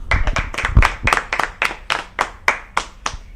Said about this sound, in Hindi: ये तालियां इस बजट के स्वागत के लिए है